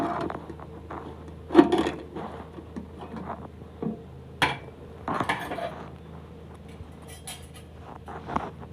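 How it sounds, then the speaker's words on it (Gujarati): Metal clanks and clinks from the lid of a kitchen pressure cooker of boiled potatoes being opened, scattered sharp knocks close by with quiet pauses between them. "આપણે આ કુકરને હવે ખોલી લેવું"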